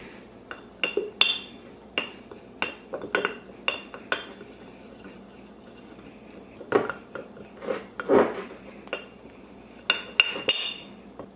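A spoon clinks and scrapes against a glass jar while mixing a sourdough starter of flour, water and honey, in irregular bursts of sharp taps and stirring scrapes, close and clear with no talk.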